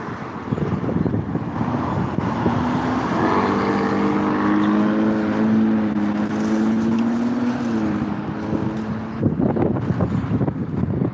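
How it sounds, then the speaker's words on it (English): Strong outdoor wind buffets the microphone in a steady, loud rumble, with a droning engine-like hum rising and falling through the middle. "Boy, that wind is really starting to pick up out here."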